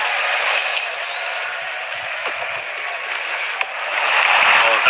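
Stadium crowd in the Real Cricket 24 game, a broad steady roar of cheering and applause that holds evenly throughout and swells slightly near the end.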